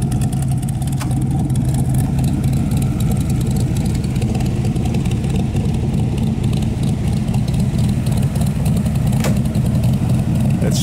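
A blue 1965 Cobra's engine rumbles steadily at close range, a deep continuous idle-like drone with faint revving swells and no clear pass.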